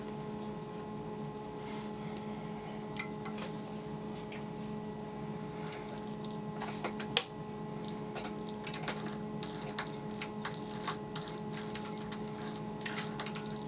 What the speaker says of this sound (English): For this, I turn the wheel by hand because I want ultimate control